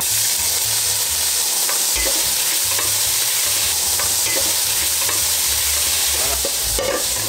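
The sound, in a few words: smoked bacon frying in hot oil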